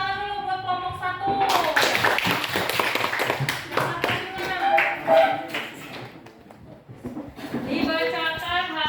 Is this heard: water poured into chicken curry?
no